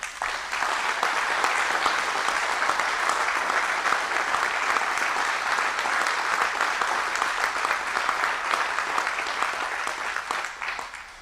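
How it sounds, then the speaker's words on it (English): Sustained audience applause at a town hall event in Sioux Center, Iowa, honoring a volunteer police officer; dense, steady clapping from a sizable crowd lasting about eleven seconds with no talk over it. "I'd like to give him a round of applause"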